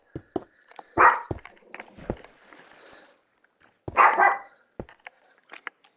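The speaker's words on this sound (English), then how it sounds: "I'm sorry if you can hear my dog." A pet Chihuahua barks in sharp, close bursts, two loud yaps at the start, then a pair around the middle and a few quieter ones, with faint shuffling noise between.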